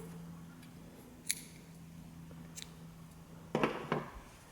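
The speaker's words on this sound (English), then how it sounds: "You can cut your yarn." Scissors snip through crochet yarn up close, giving a couple of faint crisp cuts and a brief louder double snip near the end against a quiet background.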